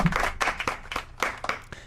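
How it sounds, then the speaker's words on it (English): Scattered applause from a small audience, a few sparse, irregular claps close by, fairly faint and thinning out. "Can we give a round of applause for our commander-in-chief?"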